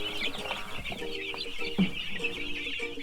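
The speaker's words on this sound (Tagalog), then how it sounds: "151 na sisiw ang nilipat mula sa brooder papunta sa ating 200 square foot na grower house sa farm." Many chicks peep and cluck inside a 200-square-foot free-range chicken grower house, a dense, continuous high chirping chorus close by with scattered louder calls and no talking.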